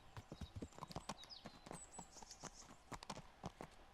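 Horse hooves clip-clop in an uneven trot through brambly woods in the video game Kingdom Come: Deliverance, the beats quiet and close with faint whinnying traces.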